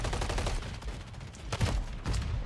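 Rapid shotgun blasts in Call of Duty MW3 multiplayer, a dense run of loud booming shots with no gaps, close and dominant throughout.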